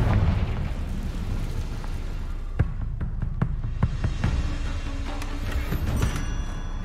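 A Confringo fire spell goes off in Hogwarts Legacy, a deep rumbling blast followed by a series of sharp pops and crackles scattered over several seconds.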